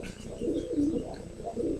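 Soft, low cooing from a loft of racing pigeons, a continuous murmur of overlapping coos, moderately close and fairly quiet.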